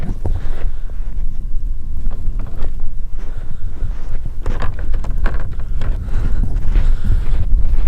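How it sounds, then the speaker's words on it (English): Blizzard wind buffets a winter camp on a frozen lake at -32 °C, loud and gusty, battering the microphone with rough thumping bursts throughout and no voices. "She is windy, she's blizzardy, she's cold."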